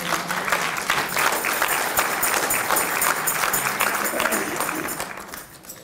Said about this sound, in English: So we need to just give them a round of applause.